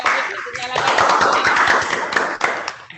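Classmates applauding the winner of a quiz in a classroom, a burst of dense clapping from a group close by, fading near the end while a voice speaks over it.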